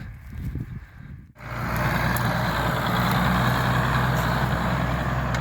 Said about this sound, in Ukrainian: давайте глянемо, як буде великий трактор орати.